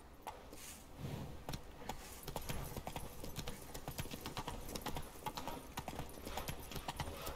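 Roach the horse trots in The Witcher 3, a steady rhythmic clip-clop of hooves that runs the whole time at close range and fairly loud, with faint game ambience around it.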